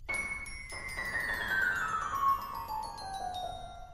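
A magical wish box chime from a children's cartoon, a bright shimmering tinkle with a sustained tone that glides slowly downward as sparkling overtones ring on for several seconds, clear and close.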